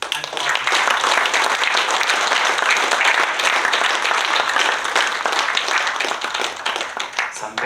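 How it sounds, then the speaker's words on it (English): At a corporate get-together, the crowd breaks into loud, continuous applause, a thick, steady roar of many hands clapping that stays strong from start to finish. "let's kind of give a round of applause for ourselves and for our team"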